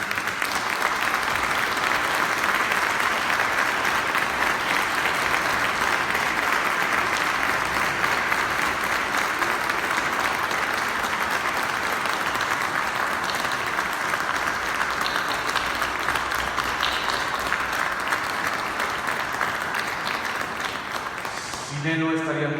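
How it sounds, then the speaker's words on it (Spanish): Sustained audience applause in a hall for journalist Julio Scherer at a Proceso anniversary event at the Palacio de Minería, a dense steady clapping of a large crowd lasting over twenty seconds before tapering off. "Yo quiero que le demos un aplauso a don Julio Scherer."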